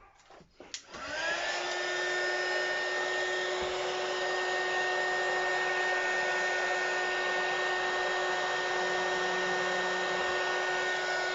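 A hair dryer blows on a 3D paint stencil. It starts with a few clicks, then settles into a loud, steady whine close to the mic that holds without a break for about ten seconds.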